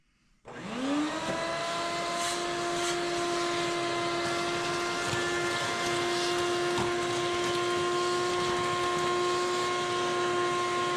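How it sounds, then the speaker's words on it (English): A vacuum cleaner sucking up garbage inside a 1989 Chevy Suburban, switching on with a rising whine that settles into a loud, steady motor drone with bright tonal hum, close and continuous with occasional rattles of debris. "Let's get the rest of the garbage sucked up."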